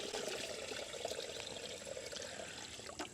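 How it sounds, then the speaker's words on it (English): Ambient-temperature water pours steadily into a 5-gallon bucket, making a continuous close splashing rush that stays even in level from start to finish. "now I'm just going to fill up this 5-gallon bucket with some ambient temperature water"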